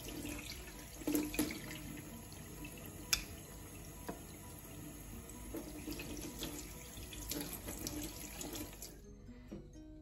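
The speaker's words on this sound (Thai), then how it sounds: "เปิดน้ำล้างออกค่ะ" Running tap water pours steadily into a sink as squid are rinsed, a continuous close splash with occasional clunks and drips, ending abruptly when the flow is shut off near the end.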